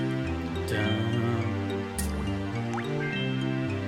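Bright melodic Donkey Kong 64 Crystal Caves music with plinking, water-droplet-like notes dripping over a bouncing bassline.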